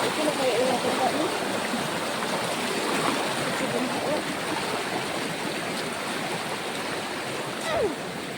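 Stream water rushes steadily and fairly loudly over rocks outdoors, a constant broadband wash that holds from start to finish with no voices.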